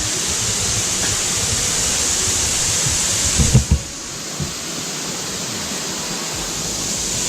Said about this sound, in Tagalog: No doubt this is the highest waterfalls dito sa Bulinaw